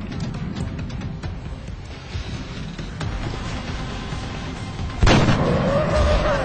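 A sniper rifle shot in the strategy game XCOM: Enemy Unknown, a single loud, sharp crack with a booming tail near the end, following a stretch of low rumbling ambience.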